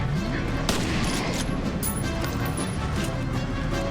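Dense, loud gunfire from the video game FEAR: a rapid fusillade of overlapping shots and bursts with no break.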